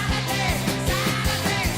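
Original recording of a rock song, a short loud excerpt with a steady driving drum beat under dense guitars and band, played continuously with no talking.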